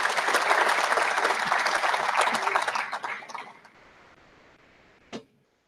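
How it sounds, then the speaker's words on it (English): Round of applause at a high school baseball anniversary celebration, full room clapping for about three seconds then tapering into near silence, followed by one sharp isolated knock. "Kathy Hyla, can we give her a round of applause?"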